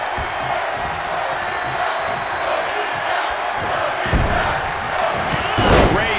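Capacity arena crowd roaring steadily in WWE 2K22 during a Hell in a Cell match between Rey Mysterio and Brock Lesnar, with a dense continuous wash of cheering and a couple of louder thuds near the end.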